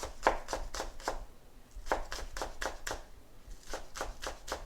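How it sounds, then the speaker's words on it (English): A knife chops onion on a board in a quick, even series of crisp taps, about a dozen strokes with a short pause partway through, close and moderately quiet, with no voices. "cut some little onion"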